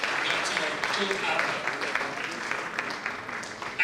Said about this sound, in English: I think we need to put another round of applause today for